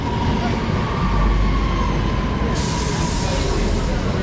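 A passenger train, the 1618 service to Bromsgrove, rolls into a station with a loud steady rumble of wheels on track and a thin high squeal running through, the noise brightening partway through.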